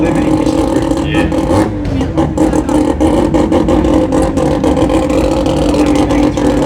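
A car engine revs loudly and continuously through the gears at an off-road jamboree in Brisbane, a close, droning roar with rising pitch sweeps and mechanical clatter, voices faint beneath.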